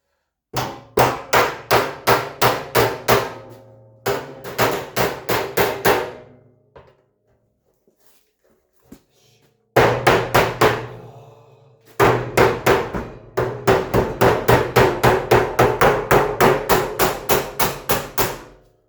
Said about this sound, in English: knock that with a hammer over the wood